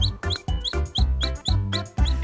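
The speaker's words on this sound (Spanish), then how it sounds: "¡Es un pollito!" Cartoon chick peeping in a children's farm song, a series of bright, repeated high chirps over a bouncy musical backing, roughly two per second.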